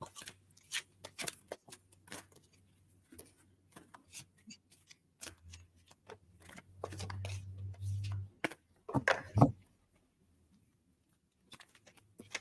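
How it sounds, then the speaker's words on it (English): A deck of playing cards being shuffled during a card reading, heard as a close riffle-like burst of fluttering card noise around the middle, followed by a sharp crisp flurry, amid scattered soft taps and handling sounds. "I'll shuffle again"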